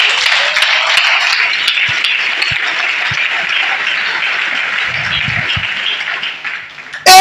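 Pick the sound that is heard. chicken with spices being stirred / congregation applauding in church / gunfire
congregation applauding in church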